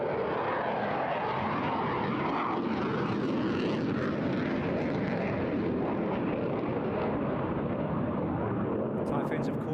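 A Typhoon fighter jet roars continuously through an aerobatic display at an airshow, a broad, heavy engine noise sustained at a distance.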